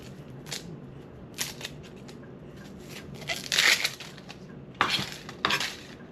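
Knife cutting onions on a board in a kitchen, a series of sharp, uneven chops and clicks with short pauses between them, close and fairly clear with no talk.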